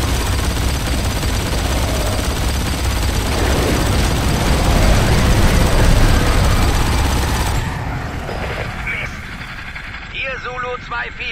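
Dense bursts of video game automatic gunfire and explosions roar continuously, then fade as engine rumble and radio-style German voices take over near the end.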